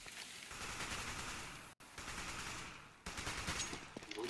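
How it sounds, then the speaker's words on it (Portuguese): Rapid gunfire from the video game Counter-Strike, dense bursts of automatic shots filling the clip with brief gaps between volleys, quiet overall. "Dei 6 tiros"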